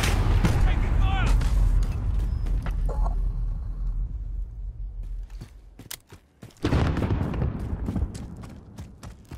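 Gunfire in a Modern Warfare multiplayer match fought over capture points near a cave entrance: dense bursts of shots and impacts, loud and close, mixed with game voice callouts, easing briefly before another heavy volley.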